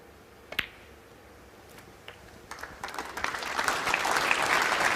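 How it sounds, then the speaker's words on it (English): Audience applause at a Mark Selby v Luca Brecel snooker quarter-final, Champion of Champions 2017: a few isolated claps, then clapping that swells from about halfway into a full, sustained round that is still building at the end. "The applause signifies that Selby has recovered 1 frame"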